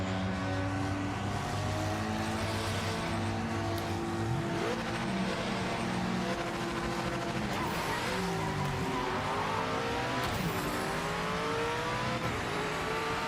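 A race car engine in the sim game Project Motor Racing revs loudly and without a break, its pitch climbing and dropping through repeated gear shifts with brief tire squeal, close and alone.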